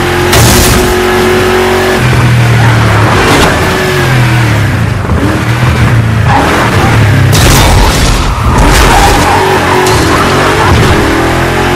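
A car in the Burnout Paradise video game revs hard and smashes through a gate, with loud engine roar, sharp crashing impacts and skidding bursts spread across the run.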